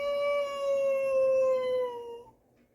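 A person imitates a wolf howl under a big moon: one long, sustained, wavering tone rising slightly and then sliding down, loud and close, fading out at the end.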